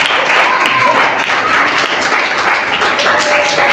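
A church congregation applauding loudly and steadily, dense continuous clapping from a large crowd filling the room throughout.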